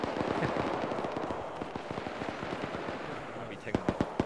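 Rapid rifle fire crackles in a military game battle, dense bursts of shots at middling distance running throughout, with voices talking over the gunfire.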